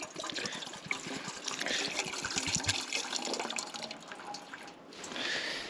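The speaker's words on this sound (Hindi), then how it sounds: "कुछ बोतल में पानी बचा है, तो इसको यहीं खाली करके जाता हूँ।" Leftover water is emptied from a bottle onto the ground at a wild camp in Andafor Bugyal in the Himalayas, a steady splashing trickle that swells again near the end.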